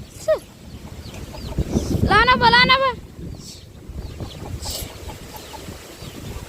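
A hen gives a short run of clucks amid steady background noise of rain, with a person's voice calling out briefly nearby.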